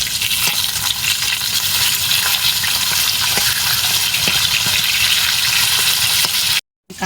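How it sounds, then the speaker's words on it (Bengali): Fish frying in hot oil in a home kitchen, a continuous loud sizzle with crackling pops, close up, cutting off briefly near the end. "ভালোভাবে তেলটা গরম হলেই মাছটা দিতে হবে যাতে লেগে না যায়।"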